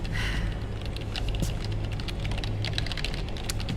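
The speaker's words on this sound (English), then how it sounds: "Three keyboards at once" Rapid clattering of keys in the video game Metal Gear Solid 4, several keyboards typed at once, with dense overlapping clicks over a low steady hum.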